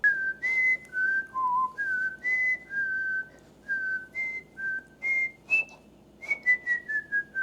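A person whistles the Jeopardy theme in clear separate notes, bouncy, close and fairly loud, with small pauses between phrases.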